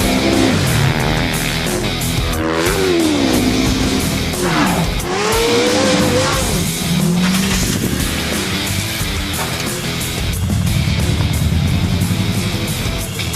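Off-road race trucks running a parade lap on the dirt course at Crandon, engines droning and revving loudly and continuously with shifting pitch sweeps as they pass, no talk over them.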